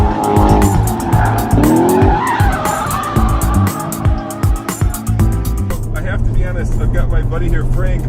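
A 2014 Chevrolet Corvette Stingray launches hard on a slippery surface, its tires squealing and skidding through a loud, close engine roar that surges and drops with gear changes, lasting the whole stretch.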